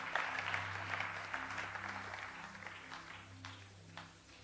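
A church congregation applauds, a soft sustained patter of clapping with a low musical hum underneath, fading gradually.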